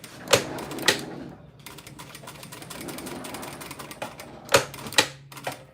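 Sewing machine stitching fabric: a close, steady mechanical whir with sharp clacks at the start and end of each run, without talk.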